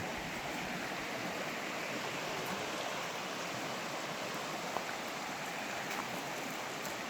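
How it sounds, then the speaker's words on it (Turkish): A stream flows steadily through Sadağı canyon near Orhaneli, Bursa, a dense, even rush of water that carries on unbroken throughout with no talk over it. "derenin sesi mis gibi."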